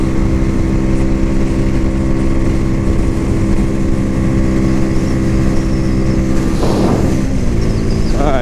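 Cougar Vitacci XMT 250 motorcycle held at top speed in fifth gear on a test ride, a loud, steady high-revving engine drone with heavy wind rush, ending in a brief shift in tone.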